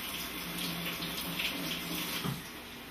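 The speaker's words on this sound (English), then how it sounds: "So I'm just going to rinse the top of the can." Tap water runs steadily over the top of a bean can under a kitchen faucet, a close continuous splashing stream with a slight change in tone as the can shifts.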